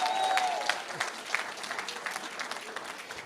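An audience at a church gathering applauds, brisk dense clapping at moderate distance that is strongest at the start and gradually thins, with a faint voice and a whistle-like tone briefly over it.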